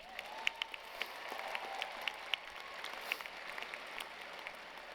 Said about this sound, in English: Give yourselves a round of applause for this accomplishment.